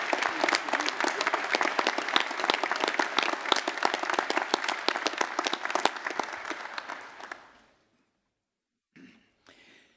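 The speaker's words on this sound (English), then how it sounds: "can we give Dr. Mahari another round of applause?" Audience at a Massey University graduation ceremony in Manawatū applauding, dense sustained clapping that fades out after about seven seconds, followed by near silence with a faint cough or rustle.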